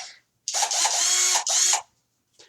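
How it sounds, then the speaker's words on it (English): A power drill driving screws while building an IKEA table, two close, loud whirring bursts with a short break between them, followed by a brief faint blip. "Right, where's me drill?"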